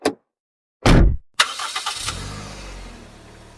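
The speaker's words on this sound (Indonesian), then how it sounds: "menyalakan ambulans" An ambulance engine cranks with a couple of sharp bursts, catches, then revs and settles into a steady rumble as the vehicle pulls away, close and loud with no voices.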